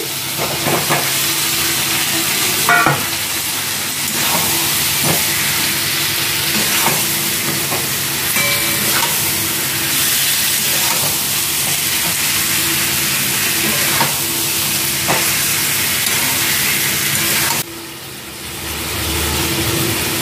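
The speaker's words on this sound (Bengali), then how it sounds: "বিরিয়ানির ডিম আলুটা কষানো হয়ে গেছে" Egg and potato sautéing in a pan for biryani, a steady broadband sizzle with a few faint stirring clicks that drops off briefly near the end.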